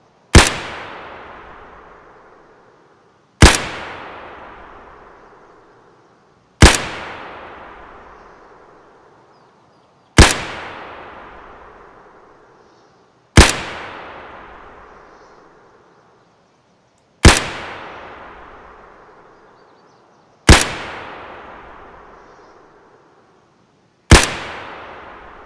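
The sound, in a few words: rifle firing PS rounds in Escape from Tarkov video game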